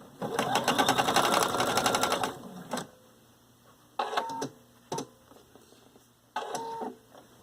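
A sewing machine stitches a seam in one long steady run of rapid needle strokes, then several short bursts and single taps with pauses between, close and clear.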